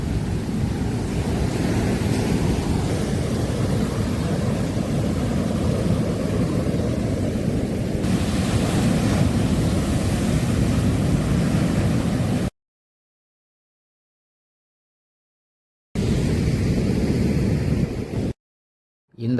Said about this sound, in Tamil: ரொம்ப ரஃப்பாக இருந்தது அலைகள்.